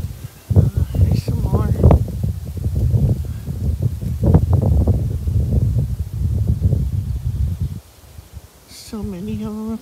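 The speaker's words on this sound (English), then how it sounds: "And if you can't tell, it's windy today." Gusty wind buffets the microphone in low, rumbling surges that rise and fall for several seconds, then briefly ease near the end.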